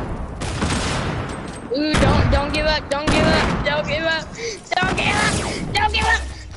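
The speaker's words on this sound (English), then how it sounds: "That's a grenade." A grenade blows up during a video game shooter match amid bursts of rapid gunfire and booms, loud and close, with excited voices exclaiming over the action.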